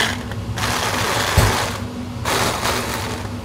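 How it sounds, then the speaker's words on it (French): A blender runs in two whirring bursts, each over a second long, with a short lull between them. It is mixing coffee infused with chicken broth and lightly creamed milk, and it sounds close and fairly loud. "Là, je vais le mixer."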